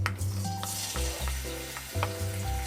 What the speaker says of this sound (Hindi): हरी प्याज और अदरक लहसुन पेस्ट भून लेंगे।